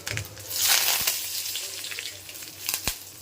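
Mustard seeds, cumin, fenugreek and curry leaves frying in hot oil for a hot pickle, a close crackling sizzle with sharp pops and a couple of spoon knocks.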